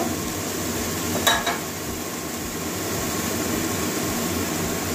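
Onions fry in oil for Bengali dhokar dalna, giving a steady soft sizzle with a brief clink of stirring near the start, continuous and fairly quiet, no voices.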